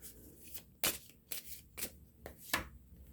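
Tarot cards being drawn and shuffled by hand, a series of five or six quick, crisp riffling swishes spaced out irregularly and close up, with no talking.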